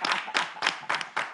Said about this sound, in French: Applaudissez pour moi quand même.